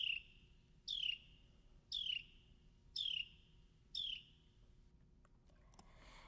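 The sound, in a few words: Carolina wren buzzy trill call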